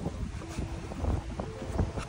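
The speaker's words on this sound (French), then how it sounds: "j'espère qu'on m'entend bien avec le vent" Wind buffets a microphone outdoors, a steady low rumbling roar with gusty swells that runs through the whole short stretch and is heard close with no talking.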